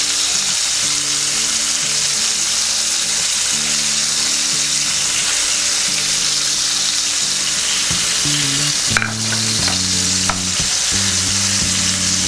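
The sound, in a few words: prawns frying in oil in a wok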